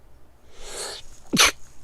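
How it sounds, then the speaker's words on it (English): A single person sneezes at close range, a breathy intake building for about half a second before a sharp, loud burst, then quiet. "I gotta sneeze."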